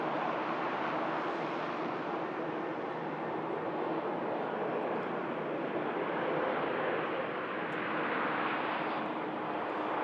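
Jet airliner landing at Manchester Airport, a new Turkish aircraft about two months old, its engines giving a steady, broad roar that holds loud and even throughout without a break.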